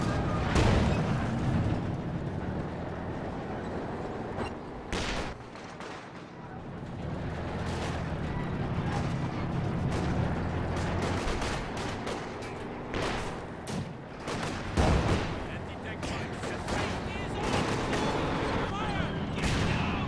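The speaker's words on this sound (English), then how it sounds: "Su-76 lining up a barrage here." Su-76 self-propelled gun laying down an artillery barrage in Company of Heroes 2, repeated heavy booms and blasts scattered across a long stretch of rumbling battlefield noise.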